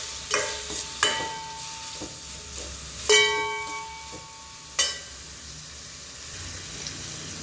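Onions fry in a few spoonfuls of oil in a pan, a soft sizzle underneath several sharp scrapes and clinks of a spoon stirring against the pan.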